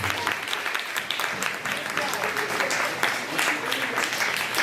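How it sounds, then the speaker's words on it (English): An audience at an information session for dental hygiene students applauds them, a dense wash of clapping with murmuring voices underneath, fairly loud and unbroken. "Give them a good applause."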